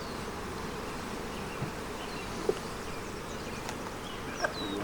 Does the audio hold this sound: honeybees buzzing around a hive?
yes